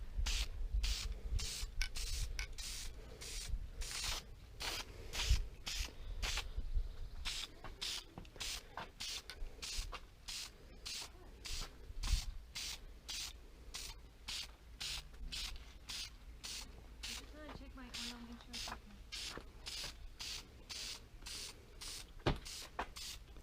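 Rapid bursts of Dupli-Color vinyl and fabric aerosol spray paint hissing in short repeated pulses, close up, with faint rubbing and mechanical clicks between sprays.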